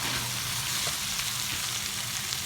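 Tomatoes and green chillies frying and being mixed for karela piyaz, bitter gourd with onions, dhaba style, give a steady, close, even sizzle with no voices.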